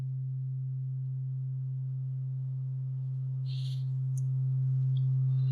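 A steady, pure sine wave tone from a Pittsburgh Modular Local Parks oscillator hums continuously, growing slightly louder toward the end, with a few faint incidental clicks in the background.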